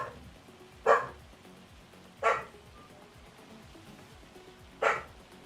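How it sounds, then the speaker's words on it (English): Dogs bark in the Farming Simulator 25 video game, three separate single barks spaced a second or two apart, moderately loud against a quiet background with no voices. "Doggos!"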